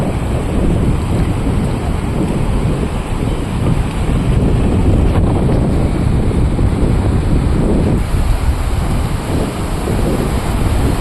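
Sea waves break and wash onto a sandy beach in a steady, loud, rolling surge, with wind noise over the microphone and no talking.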